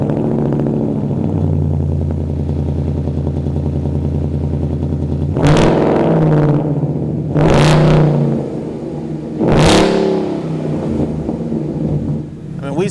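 A 2015-2017 Mustang GT running a Mishimoto race axle-back muffler-delete exhaust with the resonator kept idles with a steady deep burble, then barks through three sharp, loud revs spaced a couple of seconds apart, heard close up.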